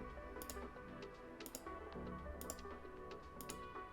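Computer keyboard keys, including Option/Alt, pressed during photo editing in Lightroom or Camera Raw, giving several quiet, sharp clicks at roughly one-second intervals over a faint background.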